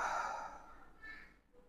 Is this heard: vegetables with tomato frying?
no